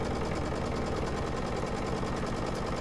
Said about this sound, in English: So I'm just going to sew down this long edge